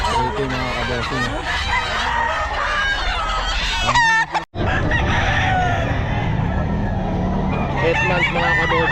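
Chickens and roosters at the Bocaue pet market cluck and crow loudly all around, overlapping calls filling the scene with busy crowd noise beneath, and people talking among them.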